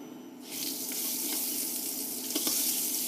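Butter melting in a hot pan while preparing garlic redclaw freshwater crayfish, a steady broadband sizzle that starts abruptly and holds evenly, close and moderately loud with no talking.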